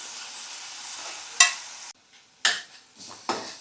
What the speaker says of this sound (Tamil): தக்காளியை சேர்த்து வதக்கும் போது மசாலா பொடி எல்லாத்தையும் போட்டுடலாம்.